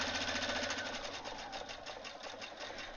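A sewing machine running steadily while satin stitching a fabric applique, a close, continuous fast-pulsing whir with no pauses.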